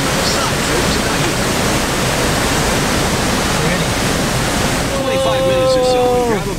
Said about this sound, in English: That's a crazy river.